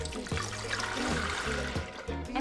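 Water poured from a container into a blender over raw cashews to make homemade cashew milk, a close, steady splashing pour lasting a couple of seconds with no one speaking.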